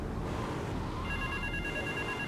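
A telephone rings in the GTA 3 video game, its steady electronic ringing tones entering partway through over a constant background hum of game noise.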